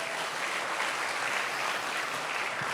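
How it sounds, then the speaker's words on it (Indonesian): A crowd at a youth Valentine worship service applauding, a thick, even roar of many hands clapping together, sustained and steady throughout without distinct individual claps. "Tepuk tangan buat mereka semua"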